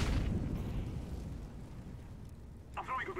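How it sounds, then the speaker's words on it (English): Flashbang grenade going off in the CS:GO video game: a loud, close burst at the start that decays into a lingering rumble, with a brief voice near the end. "Hostile flashbang."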